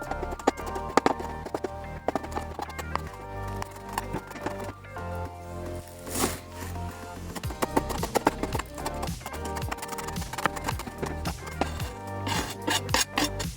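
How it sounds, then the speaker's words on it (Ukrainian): A knife chops garlic for vinegar-marinated Ukrainian salo (pork fat), with quick repeated blade taps on a board over steady background music. "І зараз нарізаємо часничок."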